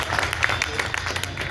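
Crowd applause at a BSP political rally: continuous, moderately loud clapping with a busy, crackling texture, sustained briefly.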